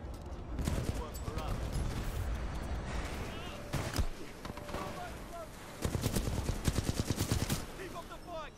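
Rapid automatic gunfire from a Titanfall-based animated battle scene comes in sustained bursts with sharp individual shots, a heavier cluster near the end, and voices talking between the volleys.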